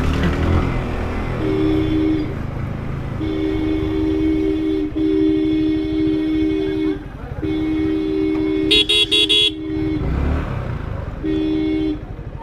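Car horns honk in busy city road traffic jammed with bikes and e-rickshaws, several sustained toots overlapping over a steady loud traffic rumble, with a brief burst of higher sharp honks near the end.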